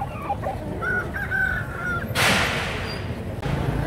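Chickens and roosters at a poultry market in Lahore, with bird calls and clucking over a busy crowded background, and a sharp burst of noise partway through.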